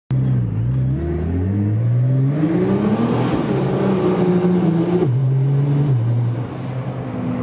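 An 1800-horsepower Nissan GT-R engine accelerating from inside the car, a loud, close rising roar climbing through the revs with a brief drop at a gear change before pulling up again, then easing off.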